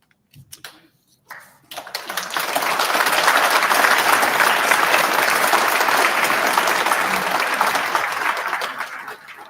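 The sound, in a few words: audience applause at a medical school white coat ceremony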